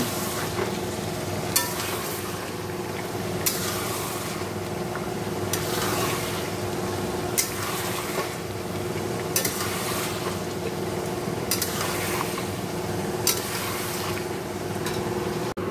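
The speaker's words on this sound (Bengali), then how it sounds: "আর এখানে চিকেনটা এই যে কষা হচ্ছে" Chicken sautés in a pan with a constant loud sizzle and spatter, while a utensil strikes the pan at regular intervals of roughly two seconds; no one speaks.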